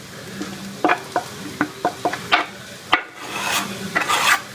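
Fresh dill is folded into a pan of sizzling beef stroganoff with a wooden utensil, making a series of sharp scraping and knocking strokes over a continuous sizzle of frying.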